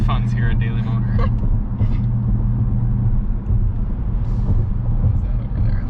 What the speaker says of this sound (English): Even just kind of cruising, you get sort of that resonating, droney sound.